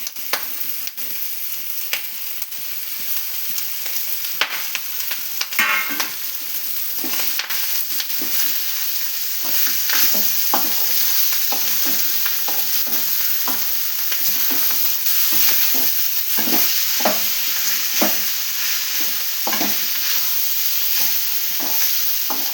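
Masala and an onion-coconut mixture fry in a clay pan with a steady close sizzle, broken by frequent scraping stir strokes in an uneven rhythm throughout.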